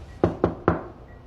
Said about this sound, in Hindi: अंदर आने से पहले नॉक कौन करेगा?